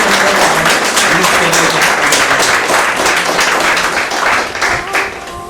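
Loud, enthusiastic audience applause at a talk on startups: many hands clapping densely and continuously, with faint voices beneath, tapering slightly near the end.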